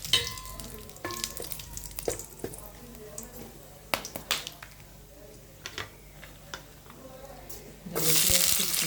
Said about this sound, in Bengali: তেলটা গরম হয়ে গেছে, দিয়ে দিলাম গোটা জিরা, গোটা গরম মশলা